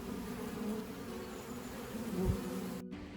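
Honey bees in a hive make a steady, dense, close-up buzz that holds evenly for the whole stretch, with no voices.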